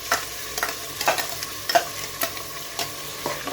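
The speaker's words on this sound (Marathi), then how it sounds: "त्याच्यामध्ये हे आपण कांद्याचा जो क्रश आहे तो घालूया." Crushed onion frying in about three to four ladles of oil in a pressure cooker, a steady sizzle broken by sharp, regular scrapes of a spoon as it is stirred, close up with no talking.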